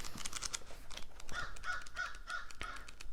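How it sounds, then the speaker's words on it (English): A crow caws five or six times in a steady series, moderately near and fairly loud, with no talk over it. "Ooh, confirmation from the crow."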